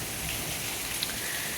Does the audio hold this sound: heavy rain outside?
yes